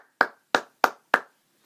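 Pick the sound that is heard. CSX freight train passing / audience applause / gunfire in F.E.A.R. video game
audience applause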